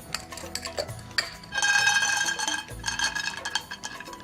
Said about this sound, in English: That'll help dry roast the peanuts even quicker.